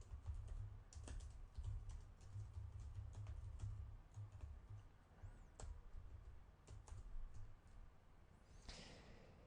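Typing on a computer keyboard: quiet, steady key clicks and taps at an irregular rhythm, close by but faint, with no voice over them.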